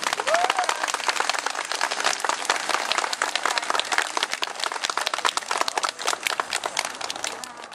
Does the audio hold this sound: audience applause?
yes